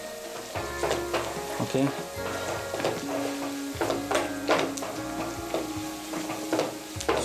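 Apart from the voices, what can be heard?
mixing ivy gourd in oil, sizzling in the pan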